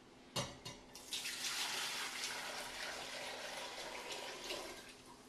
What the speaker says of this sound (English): Then I'm going to go ahead and pour it back in here.